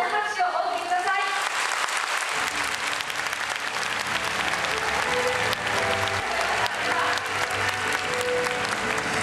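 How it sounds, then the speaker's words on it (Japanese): A theatre audience at a stage greeting for the anime film Wolf Children breaks into loud, sustained applause. It follows a speaker's voice and then continues as a dense, even wash of clapping. "皆様に大きな拍手をお送りください。"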